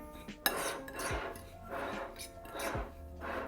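Dried basil and chili peppers stirred in a bowl in a home kitchen: soft repeated scraping and clinking of a utensil against the bowl, quiet and close, with no talk.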